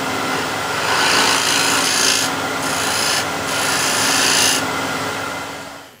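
A shear scraper cutting wood on a spinning lathe, a loud continuous rasping scrape with a few short pauses and surges, fading out at the end.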